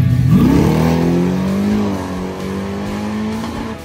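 A nitrous-fed drag race car makes a run, its engine roaring loud and close with a rising pitch sweep at launch that settles into a steady high-revving drone.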